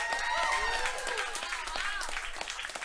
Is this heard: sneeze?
no